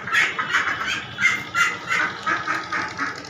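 A duck with a broken leg, caught in a net, quacks repeatedly up close, a rapid series of raspy calls in a steady rhythm, with no talking.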